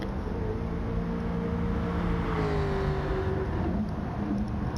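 A race car's engine drones loud and continuous during a handbrake turn at Monza in a racing video game, its pitch sliding and wavering with the throttle.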